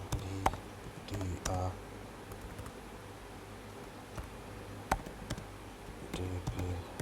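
Faint, sparse clicks of a computer keyboard while searching for NVIDIA, a few scattered keystrokes and short clusters over a quiet room background.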